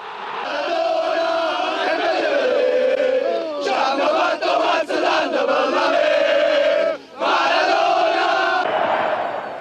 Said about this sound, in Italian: Maradona è meglio Pelé, cantano i tifosi